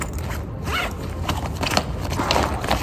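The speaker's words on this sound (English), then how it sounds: "you have a zipper" A zipper is pulled on a Beis Mini Weekender bag with a pleather sleeve, a close, short rasping run that continues in a few uneven strokes, with no talking.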